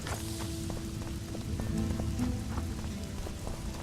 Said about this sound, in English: It's actually hard to see through this rain